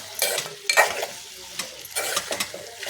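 Bottle gourd pieces and tomatoes stirred in hot oil in a pan, with several scraping strokes of the spoon over a steady low sizzle, close and clear.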